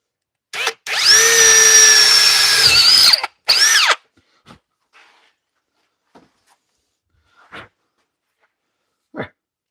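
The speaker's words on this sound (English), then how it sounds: "I could probably drill out the piece that I just put in there" Power drill running steadily for about two and a half seconds, boring out a freshly fitted piece, then a short second burst, followed by faint scattered knocks and handling sounds.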